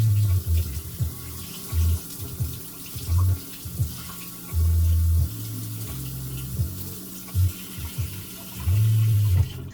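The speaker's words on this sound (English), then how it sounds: "Okay, now you rinse this with cold water." Cold tap water runs in irregular bursts as MAMA Pad Thai instant noodles are rinsed, splashing and gurgling in a sink, starting and stopping repeatedly.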